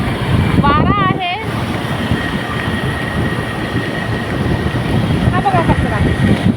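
Morning wind at Juhu beach rushes in a steady, loud, broadband roar that barely lets up, with a few brief voices and a passing tonal squeal heard through it.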